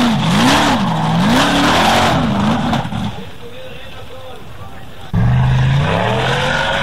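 An off-road formula car at an Icelandic torfæra (formula offroad) competition revs its engine in loud rising and falling sweeps, dipping quieter midway before surging again, with a commentator talking over it throughout.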